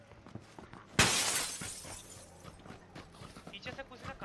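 Glass shatters in the PUBG video game, a sudden loud crash followed by a spray of falling shards and tinkling that fades over a few seconds, with voices talking over game sounds.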